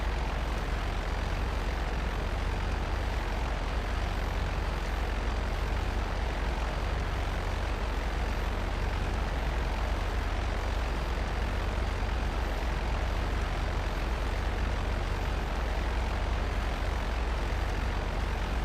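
A propeller airplane engine in GTA Online drones in a loud, unbroken roar, steady and close throughout with no pauses.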